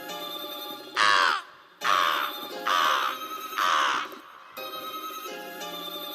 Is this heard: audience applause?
no